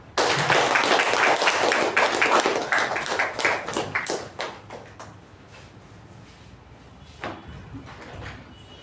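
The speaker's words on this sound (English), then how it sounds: "With a thunderous round of applause, please welcome Toastmaster Shuba." Loud, dense applause from an audience that fades gradually over several seconds, ending with a few scattered claps.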